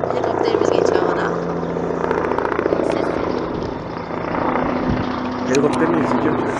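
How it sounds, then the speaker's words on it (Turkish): A helicopter passes overhead at Ankara Castle, its steady rotor drone loud and continuous while people talk over it. "Helikopterimiz geçiyor havada."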